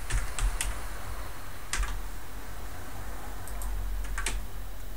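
Numeric keypad keys on a computer keyboard pressed as Blender view shortcuts, giving a few sharp isolated clicks and short bursts of taps spread over several seconds, close up over a steady low room hum.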